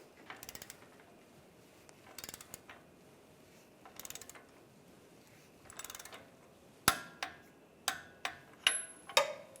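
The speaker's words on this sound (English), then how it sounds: "Now we'll torque this to 34 foot-pounds." A torque wrench clicks while a drag link is tightened on a 2007-2017 Jeep Wrangler, with a few soft ratcheting bursts and then five or six sharp, evenly spaced clicks, close and quiet, with no talking.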